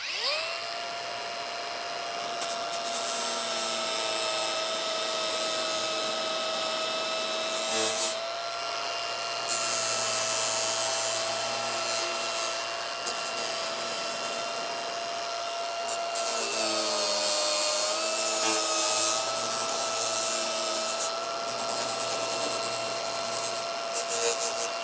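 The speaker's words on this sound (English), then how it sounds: "now I'll switch to this flap disc here" An abrasive flap disc on an angle grinder works along the edge of a steel winch bumper for a 4Runner, a loud, steady high whine that dips briefly when the tool comes off the metal, then resumes for long continuous passes.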